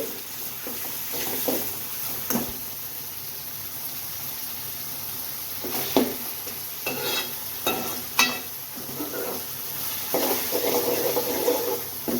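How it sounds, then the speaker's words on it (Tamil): Tomatoes being sautéed in a pan for a dried fish curry, with a soft ongoing sizzle broken by intermittent scraping and stirring bursts of a utensil against the pan. "தக்காளி நல்லா வதங்கி வரட்டும் தொக்கு பதத்துக்கு வரணும்"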